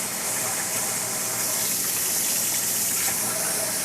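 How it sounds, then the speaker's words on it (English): Warm tap water gushes steadily into a bowl while rice is rinsed for Persian saffron rice, a constant close hiss and splash with no pauses. "Now it's time to wash and rinse water with warm tap temperature."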